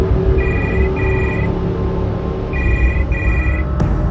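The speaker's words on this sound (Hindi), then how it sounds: "यहां पर हर रात रूम नंबर 113 से फोन आता है" A telephone in a hotel room rings in two pairs of electronic trills, loud and close over a dense, rumbling background.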